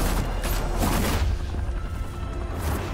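Dense overlapping gunfire volley from a group shooting at once in Batman: The Telltale Series, a loud continuous burst of shots lasting the whole moment with no pauses.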